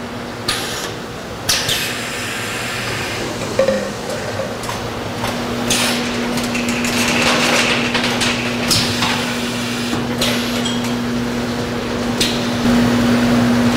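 Machinery on a liquid bottling line as bottles feed into a 10-head overflow filler, giving a steady mechanical hum with a constant drone and scattered knocks and clatters throughout, with no talk.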